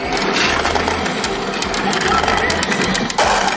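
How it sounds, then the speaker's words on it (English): A dense, loud mechanical clatter of pachinko machines and rattling ball bearings fills the space continuously, with a low rhythmic hum underneath. "hundreds of shrieking machines and thousands of ball bearings being blasted in every direction"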